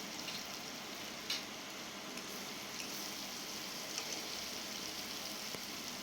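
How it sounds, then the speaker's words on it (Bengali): Spices with turmeric, ginger-garlic paste and a splash of water fry for a katla fish curry, a soft, even sizzle heard close and quiet, with a few faint stirring clicks and no talking. "দিয়ে মশলাটা কষিয়ে নেব"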